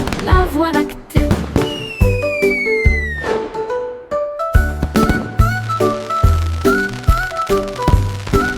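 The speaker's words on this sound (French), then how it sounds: "Les feux d'artifice de Jack ont illuminé la voie lactée." Fireworks in a children's animated nursery-rhyme cartoon, with rising whistles and bursts set against bright, rhythmic music that keeps going throughout.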